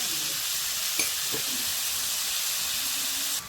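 Three finely chopped onions with half a spoon of salt fry in hot oil for a soybean roast, giving a loud, steady, close sizzle with no talking.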